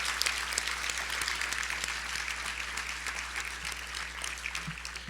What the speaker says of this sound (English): Yeah, you can applaud for them.